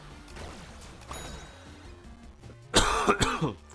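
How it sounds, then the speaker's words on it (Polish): Someone coughs and clears their throat during a Plants vs Zombies Garden Warfare 2 gaming session, with softer throat sounds first and then a loud, harsh cough burst near the end, close to the microphone. "ten kaszel mnie strasznie męczy"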